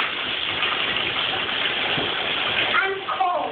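Warm water gushes steadily into a home bathtub, a loud continuous rushing pour close by, with a child's and adult's voices breaking in near the end.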